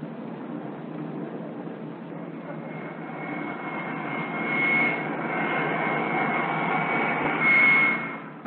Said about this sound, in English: Jet aircraft are catapulted into the air.